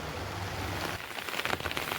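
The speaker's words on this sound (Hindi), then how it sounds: "चारों तरफ बारिश लगी हुई है" Steady patter of rain on a nearby surface, with crinkly, crackling drops growing more uneven toward the end.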